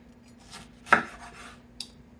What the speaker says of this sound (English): let's go ahead and chop up a red pepper and about a medium-sized onion